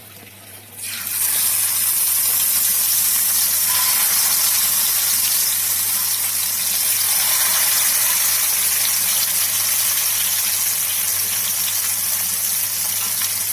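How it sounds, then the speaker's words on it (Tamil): Marinated fish is laid on a hot dosa griddle for shallow frying, and a loud hiss starts abruptly after a quiet second, then holds as a steady, close, even sizzle. "இதில் வந்து நம்ம இப்போ ஒன்று எடுத்து தோசைக்கல்லில் போட்டு ஷாலோ ஃப்ரை பண்ணிக்கலாம்"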